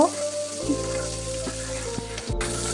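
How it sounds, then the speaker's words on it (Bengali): Mustard flowers frying in a pan with onion, garlic and green chili, a steady close sizzle with a few soft stirring knocks and scrapes, no voices. "ফুল দিয়ে দিচ্ছি আর সাথে সেই পেঁয়াজ রসুন আর কাঁচা ঝাল দিয়ে দিয়েছি দিয়ে এভাবে নেড়ে চেড়ে এটা কিছুক্ষণ ভেজে নেব"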